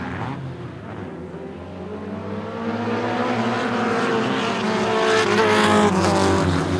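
Pro 4 modified race cars with four-cylinder engines roar around a short track in a heat, a loud, steady engine drone swelling as the pack approaches, with faint tire squeal and no talk.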